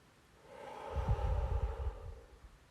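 A deep inhale and slow exhale during a guided breathing meditation, heard close and alone, swelling and then easing off over a couple of seconds.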